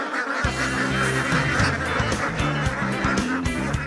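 A flock of Alabio ducks being fed sago quacks loudly and continuously nearby, many overlapping nasal calls in a busy, chattering chorus.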